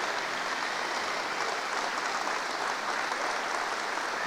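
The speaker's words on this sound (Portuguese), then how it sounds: "vamos já receber essas pessoas com uma forte salva de palmas" A church congregation claps in a strong, continuous round of applause to welcome people forward, dense and even from start to finish.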